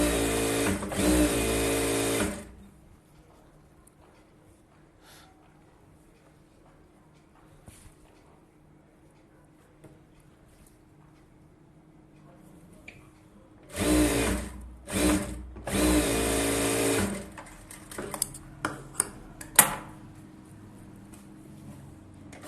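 A tailoring sewing machine stitches the lining of a collar-neck blouse, whirring in a steady run at the start, then a cluster of short stop-start bursts later amid quiet handling sounds.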